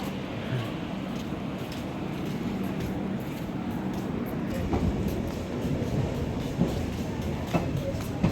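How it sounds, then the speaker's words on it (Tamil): A train bound for Thanjavur rumbles steadily as it gets moving, with rising clatter and occasional clicks of the wheels over rail joints. "ஒரு வழியாக பால்வனை தஞ்சாவூருக்கு போகிற ட்ரெயின் கிளம்பிச்சு"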